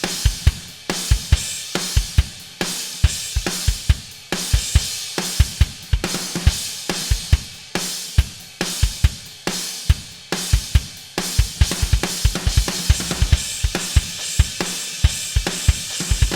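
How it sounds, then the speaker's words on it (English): Isolated drum track from the guitar solo section of a song, a steady, busy pattern of punchy kick and snare hits under a constant wash of crashing cymbals, loud and close throughout. "this is a preview of what the drums sound like during the solo"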